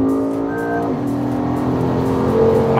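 Naturally aspirated V8 in a Toyota GR sports car, loud and close, holding a steady harmonic drone with a brief pitch drop near the first second, then rising again toward the end, no voices present.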